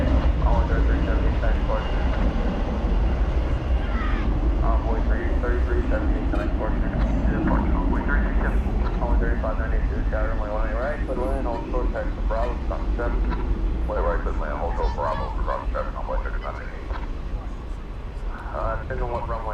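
A large airliner rumbles steadily beside a DFW airport runway after dark, a constant loud roar and hiss that fades slightly over time, while people talk over it.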